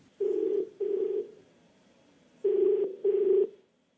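Ringback tone on a phone call from a TV quiz show studio: two pairs of loud, steady buzzing rings, each burst about half a second, with a silent pause between the pairs.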